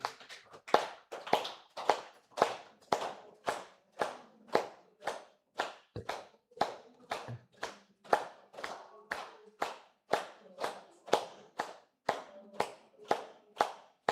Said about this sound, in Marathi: सर्वांनी दोन्ही हात वरती करायचे आहे टाळ्या वाजवायच्या आहे